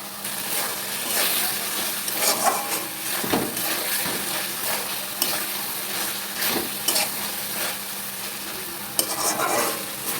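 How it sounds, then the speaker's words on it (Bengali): Pointed gourds (potol) frying in a pan give a steady, loud sizzle with stirring clatter running through it, and a few sharper knocks stand out near the end. "এবার আমি পটলগুলো দিয়ে দেবো"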